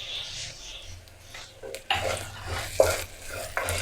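Onion, green chilli and curry leaves sautéing and being stirred in a pan, with a steady close sizzle and intermittent scraping strokes of a spatula against the metal, no talking.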